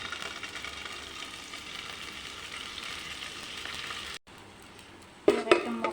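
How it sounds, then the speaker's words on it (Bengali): An egg frying in a pan gives a soft, steady sizzle at moderate distance, which breaks off briefly before a sharper clatter of cookware near the end. "এবার ডিমটা ভেজে নেব।"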